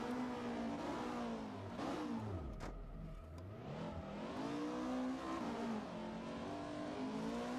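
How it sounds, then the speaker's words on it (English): Rally car engine in the Richard Burns Rally video game on a gravel stage, revving steadily and shifting pitch up and down through gears, a continuous loud drone throughout with no talk. "The sound of the car is a little bit quiet compared to my pace note."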